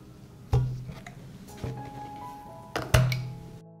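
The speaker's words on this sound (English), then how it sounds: "I put the jars in the pot." Glass jars set down one by one into a deeper pot lined with a cloth, giving a few dull thunks with faint clinks at irregular intervals, close by and fairly quiet.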